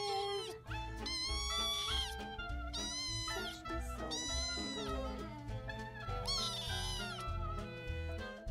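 A little kitten meowing repeatedly, with high, bending cries, some drawn out, close to the microphone over a steady low background hum.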